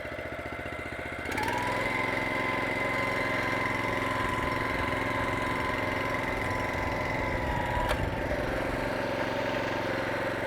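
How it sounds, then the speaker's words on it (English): Toro Greensmaster 1600 walk-behind reel mower engine idling, then the traction drive engages and it motors off with a steady, loud mid-pitched engine drone that holds throughout, without talking. "now I'm just gonna engage the traction drive and it motors off just like that"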